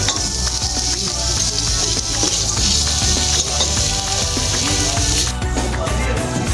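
A prawn cutlet mixture with boiled potato is stirred in a hot pan: a loud, steady sizzle with continuous scraping and stirring throughout, close up.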